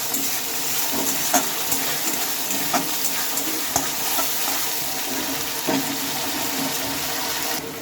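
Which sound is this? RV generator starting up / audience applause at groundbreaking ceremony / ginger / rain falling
ginger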